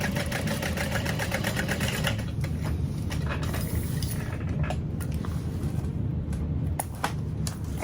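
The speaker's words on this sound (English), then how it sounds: "I'm flattening down the seam towards the bottom of the gusset and top stitching through that." Sewing machine top stitching through a bag gusset seam beside the lining, running steadily and close for the whole stretch with a fine rapid needle rhythm and a few short pauses near the end.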